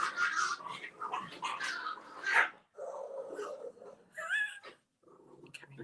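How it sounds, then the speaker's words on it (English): Two dogs fighting over a toy at home, with close, loud bursts of growling, snarling and whimpering that come in uneven spurts with brief quiet gaps and no human voices. "My dogs are fighting."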